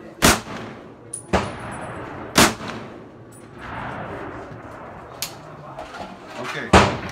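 M1 Garand rifle firing outdoors, four sharp loud reports spaced a second or more apart, with clanks and faint talk in between.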